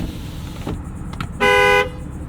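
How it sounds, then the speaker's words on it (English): A single loud, sustained horn blast of about half a second from a 2021 Ram 3500 Dually Turbo Diesel pickup, preceded by a few faint clicks and quiet background. "Let's do a honk test."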